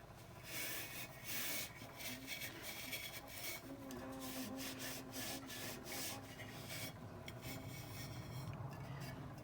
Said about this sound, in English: I just dry mine with a washcloth and get it